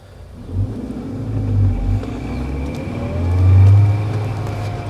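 A Mahindra Veero camper van pulls away in first gear in power mode, its engine rumbling low and swelling twice as it accelerates, heard from close by.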